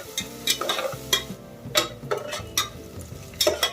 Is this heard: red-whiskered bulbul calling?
no